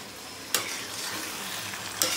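Chicken cooks in a pan with a continuous close sizzle, broken by two loud stirring scrapes, one early and one near the end.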